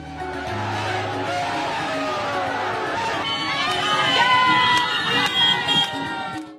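Dense crowd lining both sides of the road during PM Modi's roughly 12 km road show to Baba Dham in Deoghar, a loud continuous roar of cheering and shouting voices with whistles and chatter, swelling louder midway.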